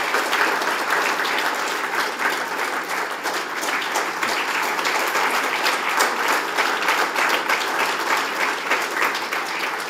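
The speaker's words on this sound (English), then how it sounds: "Please give them a big round of applause." Sustained audience applause at the Tanker Foundation award ceremony, dense and steady clapping from a large crowd lasting throughout without a break.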